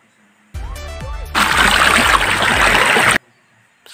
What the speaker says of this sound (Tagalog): ang sarap ng tunog ng pagaspas ng tubig sa mga bato